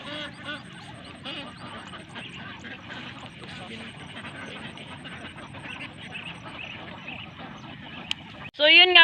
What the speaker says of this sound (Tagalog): pupuntahan nga natin yung mga alagang itik natin at bibilangin